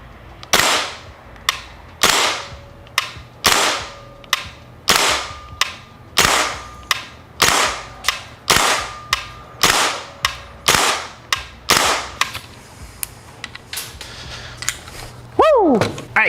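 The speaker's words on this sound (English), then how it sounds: "accuracy test with the KWA LM4C, firing .20 BBs at 25 feet" A KWA LM4C gas-operated airsoft rifle fires .20 BBs in a steady series of about fifteen sharp, loud cracks at roughly one per second, each with a short ringing tail, no talk over it.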